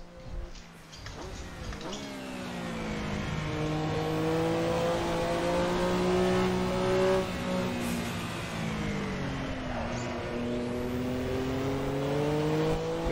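Engine note of a 1985 Group C race car in Assetto Corsa, a loud sustained in-car roar rising and falling through gear changes and revs, with tonal harmonics sweeping up and down over thirteen seconds.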